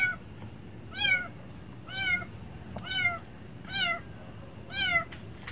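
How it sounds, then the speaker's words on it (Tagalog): A cat cries five times in a regular rhythm about once a second, each meow a clear rising-and-falling wail heard fairly near over a low background hum. "sa background music ko na yung pusa, umiiyak-iyak siya, guys."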